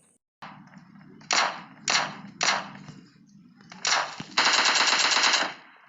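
Gunfire in the mobile battle-royale game PUBG Lite, fought at close range: a sustained shot, then three short bursts, then two longer rapid automatic volleys, loud and near against a low background hum.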